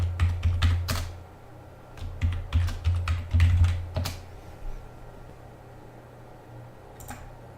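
Quick bursts of keystrokes on a computer keyboard entering a terminal command in Linux Mint Debian Edition, clustered in the first four seconds, then a pause and one final key press like Enter, close and clear over a low fan hum.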